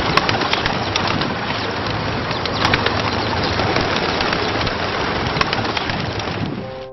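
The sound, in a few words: birds being fed in Los Angeles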